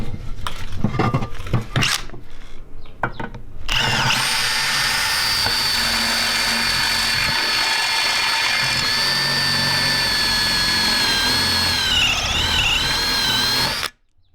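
A drill spins a 1/2 inch bit into a Honda S2000 oil pan, a steady high-pitched whine running loud and close for about ten seconds after a few short bursts, then cutting off abruptly.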